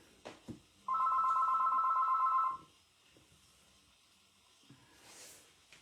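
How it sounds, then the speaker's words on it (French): A telephone rings during a live stream, one steady electronic trill of about two seconds in a quiet room, followed by faint background noise. "Ça fait 2 fois durant mon direct qu'on entend le téléphone."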